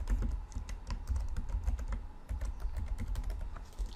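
Close, quiet clatter of keys on a computer keyboard as a username and password are typed, in short irregular bursts of keystrokes with brief pauses, and no talking.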